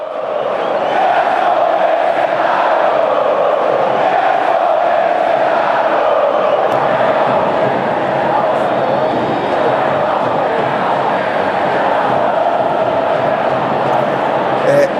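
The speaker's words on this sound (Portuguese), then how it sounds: "Vamos só escutar a torcida ontem, ó." Flamengo supporters fill a stadium with loud, sustained chanting, a dense roar of massed voices singing in unison with little variation in level across the whole stretch.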